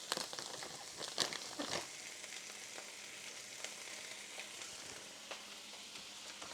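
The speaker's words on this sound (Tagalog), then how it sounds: "Igisa na lang natin siya." Leftover vegetables sauté in a hot pan with a steady sizzle, punctuated by occasional stirring scrapes and crackles, close and fairly quiet.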